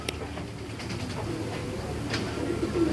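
Cobra breed military pigeons coo softly in a low, continuous burbling murmur, with a few faint clicks and rustles over a steady background hum.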